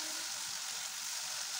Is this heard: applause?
no